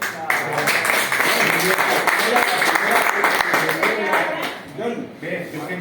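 Audience at a training session bursts into steady, dense clapping that carries on for several seconds and thins slightly near the end, with voices mixed into the crowd noise.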